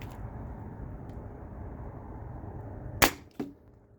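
One sharp, loud pop from a T4E HDP50 CO2 paintball marker, followed a moment later by a fainter second crack over a low background hum.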